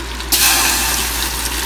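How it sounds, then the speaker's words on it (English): Water pours suddenly into a stew pot of pork and vegetables in a veloute sauce, a loud, close, steady gushing stream that starts abruptly and continues to the end. "So now I'm going to put some water in there."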